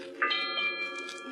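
Ship's bell striking eight bells in a 1945 radio drama of Conrad's Heart of Darkness: a clear, resonant bell tone rings out and sustains briefly, heard alone.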